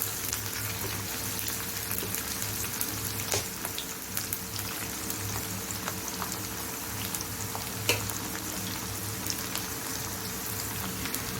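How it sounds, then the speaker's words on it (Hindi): Onions sauté in hot oil with a continuous soft sizzle and crackle, punctuated by a few light stirring clicks and taps, fairly close and steady throughout. "अभी हमने थोड़ा सा ऑयल लिया, जिसमें हम पहले प्याज को थोड़ा सा सौटे कर लेंगे"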